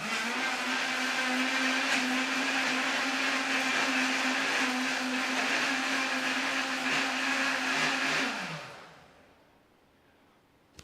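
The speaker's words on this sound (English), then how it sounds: "Let's see how the blender works," A blender powered by a BLUETTI portable power station whirs loudly at a steady pitch for about eight seconds, then winds down and fades to near silence.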